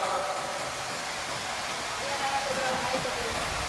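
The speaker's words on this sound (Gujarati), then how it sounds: "આ છે નાનો ધોધ" A small outdoor waterfall gives off a dense, even hiss of falling water, close and fairly loud, holding steady without pause, while voices murmur faintly beneath.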